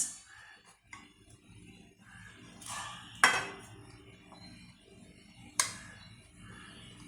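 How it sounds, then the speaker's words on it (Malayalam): A knife slices through bread on a board, with soft sawing strokes and a few sharp knocks and clinks as the blade meets the surface, close and fairly quiet. "ബ്രെഡിനെ ഇങ്ങനെ കട്ട് ചെയ്യുകയാണ്, ബ്രെഡ് സ്ലൈസ്."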